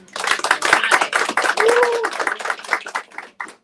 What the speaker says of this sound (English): So let's give a round of applause for Shauna Collins.